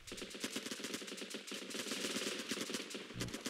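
Rapid automatic gunfire in the Running with Rifles game, a dense, continuous stream of shots at steady rhythm, loud and close with no talk.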